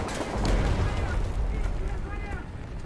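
Gunfire in War Thunder, old-style cannon shots booming in a dense, rumbling run under someone talking throughout.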